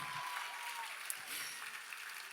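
An audience at a benefit fundraiser's live appeal gives a steady, sustained round of applause, heard from a distance as an even, hissing roar of many hands clapping.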